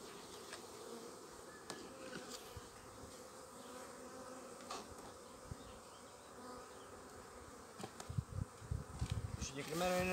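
A dense, steady hum of honeybees at a crowded eight-frame hive during beekeeping work, close and continuous, with a few louder handling bumps and thuds near the end.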